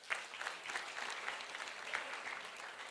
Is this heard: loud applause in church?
yes